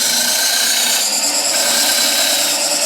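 A skew chisel makes a peeling cut on spinning wood on a lathe, a loud, steady, continuous hissing shear with a constant motor drone underneath.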